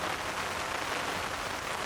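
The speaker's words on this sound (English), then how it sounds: "Cue the rain." Rain drumming on a standard umbrella, a close, steady and even hiss of many drops with no pauses or voices.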